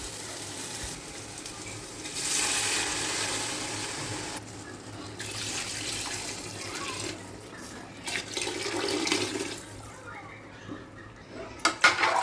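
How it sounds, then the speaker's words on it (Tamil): Water runs and splashes into a biryani pot for several seconds, with kitchen clatter and a voice speaking briefly nearby. "இந்த பிரியாணிக்கு தேவையான தண்ணி ஊற்றலாம்"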